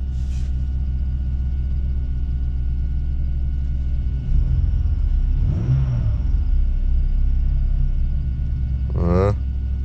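A troublesome BMW 530i engine running after starting, a low steady rumble idling close by with a slight rise in revs midway, while someone talks over it.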